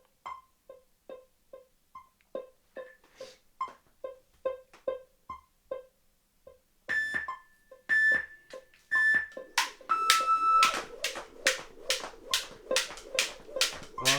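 An electronic metronome set to 144 beats per minute ticks out a steady run of short, evenly spaced beeps, later joined by louder tones and heavier rhythmic thumps as activity begins alongside it.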